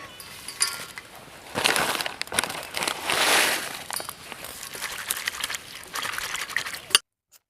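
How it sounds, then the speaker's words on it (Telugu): Dried prawns are rinsed in hot water in a vessel, with splashing, trickling and pouring sounds in uneven bursts, ending abruptly. "వేడి నీళ్ళు వేసి ఇసుక పోవడానికి శుభ్రంగా కడుక్కుందాం"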